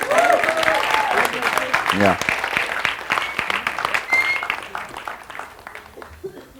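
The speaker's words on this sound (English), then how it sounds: "एक बार इनके लिए जोरदार तालियां बजाइए" Applause from an audience at an International Dance Day celebration with performers with disabilities, dense clapping filling the room steadily while a voice carries over it.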